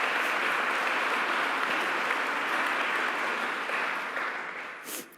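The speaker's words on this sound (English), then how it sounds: "Let's give our governor another round of applause." An audience in Buffalo gives Governor Kathy Hochul a round of applause, a thick, sustained roar of clapping that holds steady for several seconds before tapering off.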